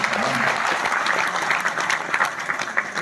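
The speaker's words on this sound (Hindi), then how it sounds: "जरा जोरदार तालियां।" Hearty applause fills the hall at a Hindi poetry gathering, dense clapping from a crowd lasting about three seconds at a strong, even level.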